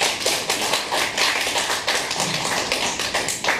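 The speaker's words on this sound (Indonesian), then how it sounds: "Tepuk tangan buat semangatnya semua." Dense, steady clapping from an audience at a virtual graduation for a traditional massage course, a continuous patter of many hands with no voices on top.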